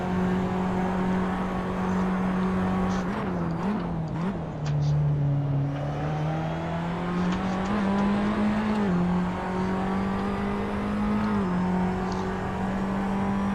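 A Formula 4 single-seater lapping the Red Bull Ring gives off a continuous near engine whine at high revs, wavering slightly and dropping briefly mid-run before settling back to a sustained drone.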